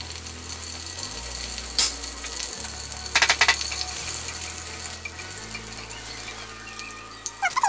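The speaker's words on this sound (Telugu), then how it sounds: "పోపులు వేస్తున్నాను." Tempering spices go into heated oil for a simple potato kurma. A few short crackling bursts rise over a low, steady hum, heard close and without talk.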